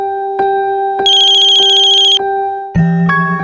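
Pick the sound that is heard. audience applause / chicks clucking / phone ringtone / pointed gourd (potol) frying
phone ringtone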